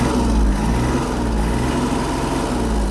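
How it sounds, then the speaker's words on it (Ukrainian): Kubota GL-320 32-horsepower Japanese mini tractor engine running at raised throttle, a steady, clean, loud hum close by with low rumble and no pauses. "Гарна, чиста робота двигуна."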